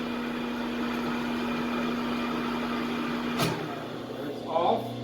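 A Rockwell lathe runs with a steady hum, then is switched off with a sharp click and coasts down with no brake, its tone dropping away afterward.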